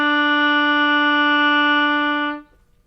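An oboe sounding a single steady low D, an octave below the intended note, with the half hole covered; one clear sustained tone held for over two seconds then stopping, close with no talking.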